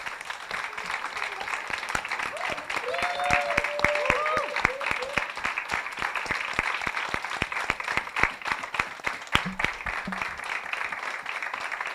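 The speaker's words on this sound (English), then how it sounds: "I would like you to stand so that we can all clap for you." Applause from a seated audience at a Feminist Africa gathering, a steady patter of clapping hands at moderate loudness with voices and cheering mixed in over it.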